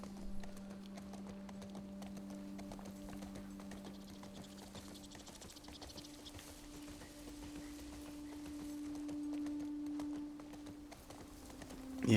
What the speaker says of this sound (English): Let's take our horse for a little trot.